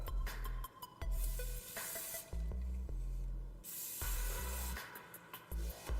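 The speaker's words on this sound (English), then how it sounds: "going to hairspray it" Hairspray misted onto a small section of a ponytail in short hissing bursts, several quick sprays and a few longer ones, close and clear with no voices.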